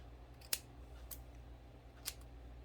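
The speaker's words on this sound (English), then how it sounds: "I should have got sharper scissors." Scissors snipping long doll hair, a few sharp separate cuts against a quiet background, close and fairly faint.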